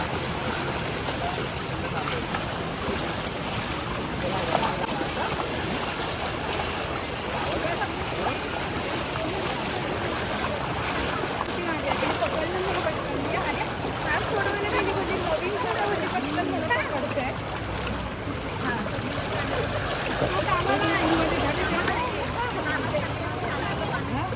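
Floodwater pours through the flooded streets of Nalasopara past a petrol pump and a vegetable market. It makes a steady, broad rushing wash that never lets up, with faint voices and traffic mixed in.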